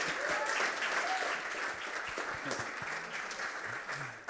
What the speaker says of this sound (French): que l'on peut applaudir